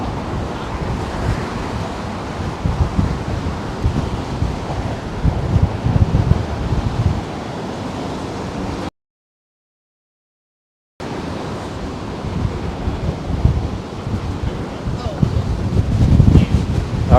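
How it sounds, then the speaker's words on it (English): Strong gusting wind buffeting the microphone on the Brooklyn Bridge near the Brooklyn Tower, a loud continuous roaring rumble broken by a short silent gap. "the wind is really picking up as we get to the Brooklyn Tower"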